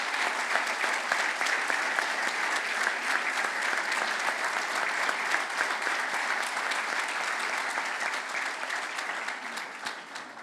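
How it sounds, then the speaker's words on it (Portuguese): Big audience applause for European election candidates at a Portuguese political rally, a long, even roar of many clapping hands that holds steady and eases slightly toward the end, with no talking. "Uma grande salva de palmas para os nossos candidatos às eleições europeias."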